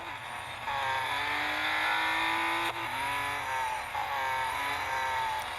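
KTM X-Bow GT-XR engine from a racing video game, a loud, steady, high-pitched whine that rises through the gears with brief dips at shifts, heard alone without talk.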